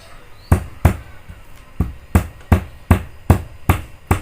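Onions for Betawi pecak jengkol are pounded flat in a mortar with a pestle, giving about nine close, sharp thuds at an uneven pace over a quiet kitchen background.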